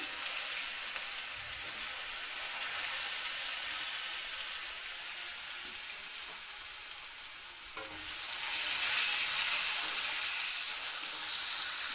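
Green banana pieces coated in turmeric and salt fry in hot oil, giving a continuous close sizzle and hiss that grows louder and denser partway through and holds steady to the end.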